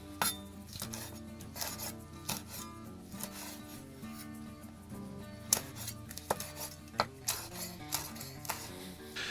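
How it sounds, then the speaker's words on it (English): Knife slicing pepperoncinis into thin slices on a cutting board, a steady run of sharp chopping taps close by over faint background music, with no talk. "I'm going to take my pepperoncinis and I'm going to slice those up into just some thin slices"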